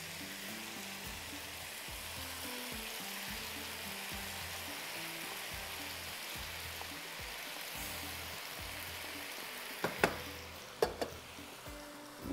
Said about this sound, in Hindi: अब इसमें जा रही है ये टमाटर, प्याज, शिमला मिर्च, बॉयल की हुई बेक पार्लर की मैक्रोनी